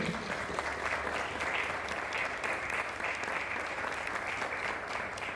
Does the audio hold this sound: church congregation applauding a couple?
yes